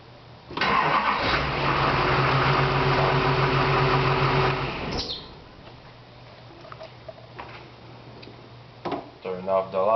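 A HMMWV military utility vehicle's diesel engine cranks and fires, running loud and rough for several seconds before cutting off; a quieter hum and faint clicks follow, with brief mechanical noises near the end.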